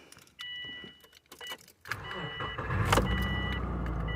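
A 2005 Saab 9-2X fitted with a new clutch safety pressure switch: keys jangle and click in the ignition, then the engine cranks and catches, settling into a close, steady idle.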